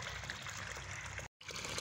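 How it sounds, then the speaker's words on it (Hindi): Water falling freely from a natural spring, a steady, dense splashing rush that runs continuously with one brief dropout near the end. "देखिए दोस्तों कितनी अच्छी तरह पानी गिर रहा है एकदम"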